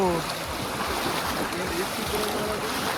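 A small, cold stream near a hidden waterfall at Kote Betta in Coorg is crossed on foot, with a steady broadband rush of flowing water and brief voice fragments.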